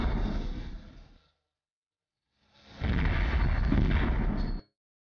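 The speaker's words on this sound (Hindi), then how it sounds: "भूमि में अब गूंजते हैं धमाके" Blasting explosions in the Braj hills, two heavy rumbling booms separated by a moment of silence, the second longer and louder.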